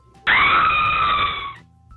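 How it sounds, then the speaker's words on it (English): A person gives a single loud, sustained high-pitched scream that holds steady for over a second and then cuts off, with near silence around it. "I heard a scream."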